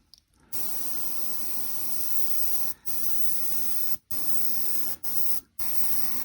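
An aerosol spray can coats a 54mm Historex model horse in loud, steady hissing bursts. There are four or five spurts with short pauses between them, close to the listener and with no talking.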